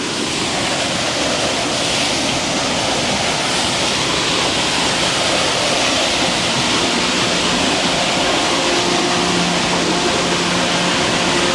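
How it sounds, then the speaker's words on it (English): A river rushes in a loud, constant roar of water, close by and unbroken for the whole stretch, with no voices over it. "The river come down."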